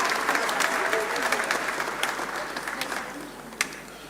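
Audience applause rings out at a school graduation and prize-giving ceremony, a steady wash of clapping from a crowd with a few sharper claps standing out near the end, and some voices mixed in.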